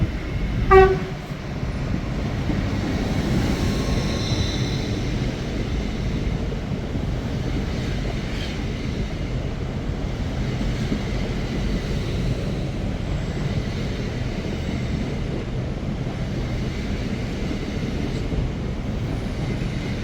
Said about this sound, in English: It's a first for Crewe Station, our very first driver horn.